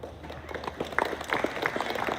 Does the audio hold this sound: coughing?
no